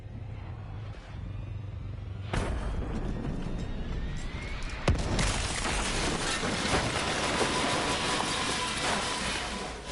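In Call of Duty: Black Ops 3's Nightmares mode, a sudden loud game explosion cuts through a rumbling, clattering background, followed by sustained crackling debris and roaring noise that stays loud to the end.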